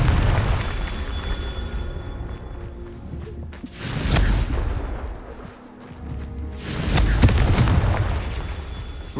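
Two heavy, booming Confringo spell blasts erupt a few seconds apart in Hogwarts Legacy, each a loud, rumbling explosion over a steady background hum.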